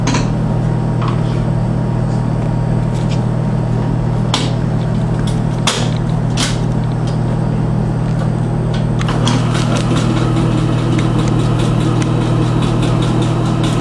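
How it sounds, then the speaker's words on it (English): Floor polishing buffer machine with a polishing pad spinning at 300 RPM, giving a steady loud motor hum and drone throughout with occasional clicks and ticks over it. "This is more like a polishing machine."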